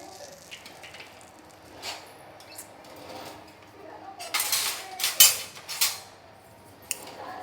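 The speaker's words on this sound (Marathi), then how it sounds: "चमच्याने आपण व्यवस्थित ते मिक्स करून" A spoon clinks and scrapes in a bowl while hot oil shortening is mixed into flour dough for coconut shingolya, sparse taps at first, then a cluster of loud, close metallic clatters.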